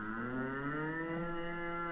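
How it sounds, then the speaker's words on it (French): Cow moo sound effect triggered inside an Adobe InDesign interactive document: a single sustained, steady bovine moo lasting about two seconds, clear and fairly loud with no speech. "voilà la vache, je vais mettre le son."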